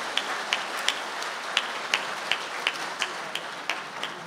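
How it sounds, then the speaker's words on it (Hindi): Audience applause at a mushaira Urdu poetry gathering in Qatar, a steady wash of many hands clapping in a hall with a few sharper individual claps standing out, moderately loud and without talk. "आप हजरात तालियां बजाइए"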